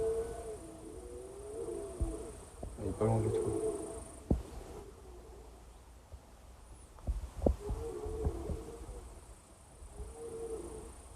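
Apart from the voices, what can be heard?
red deer stag bellowing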